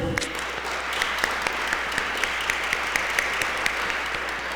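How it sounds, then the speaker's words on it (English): A round of applause from an audience at a community sustainability event thanking sponsors, steady crowd clapping with a few sharper individual claps standing out, moderately loud in a room with background hum. "if we can give them a round of applause"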